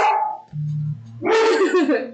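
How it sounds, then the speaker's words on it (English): A dog barks indoors, close and loud, with a short growl followed by a burst of sharp barks. "I'm pretty sure she's barking at a squirrel or something"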